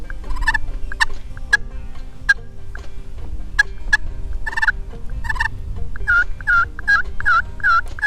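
Wild turkey yelps during a spring gobbler hunt in North Carolina on a slightly windy day, a series of repeated, rhythmic yelping notes that grow more frequent toward the end, clear and fairly close over a low wind rumble.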